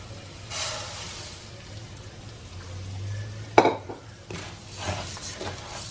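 Rice stirred and toasted in a pot for casamiento, a Central American rice and black beans dish: soft frying sizzle under scraping spoon strokes, with one sharp clank of utensil against the pot midway.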